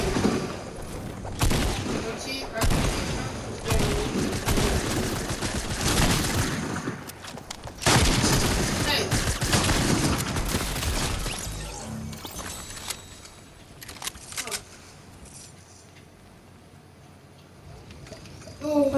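Video game gunfire crackles in dense volleys, with bursts and booms stacked through the first half and thinning toward the end, while players talk excitedly over the shooting.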